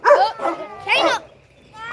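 A dog barks in several short, sharp bursts spread across two seconds, fairly close and loud, with a voice mixed in among the barks.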